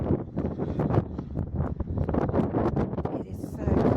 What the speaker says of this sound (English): Wow, that wind is blowing.